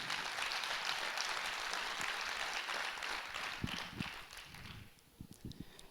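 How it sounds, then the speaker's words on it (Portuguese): A church congregation applauds during a service. Dense, steady clapping carries on for several seconds, then fades out, leaving a few scattered, separate claps. "aplauda o Senhor mais forte que você puder aí no seu lugar"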